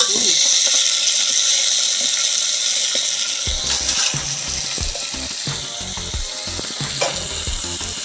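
Loud, steady sizzling of fresh fenugreek leaves frying in hot oil, with stirring and scraping clatter joining partway through.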